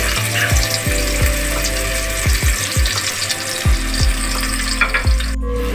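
Onions fry in about half a cup of oil in a pot, giving a loud, continuous close sizzle. Scattered clinks and low thumps from stirring break through the hiss.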